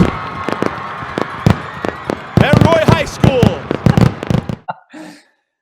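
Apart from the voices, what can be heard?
fireworks going off after a high school football game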